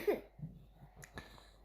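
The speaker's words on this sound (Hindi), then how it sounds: "वो सोते हुए खांसी कर रही है" A young girl lying in bed coughs in her sleep, a couple of soft, faint throaty coughs with quiet breathing between them in a still room.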